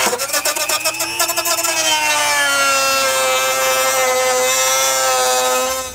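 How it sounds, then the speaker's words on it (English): A rotary tool cuts through trim during a hidden trailer hitch install on a 2021 Mini Cooper, its high whine steady and close, wavering slightly in pitch as the bit bites, with no talking. "just take a rotary tool here, just go ahead and make the required cuts"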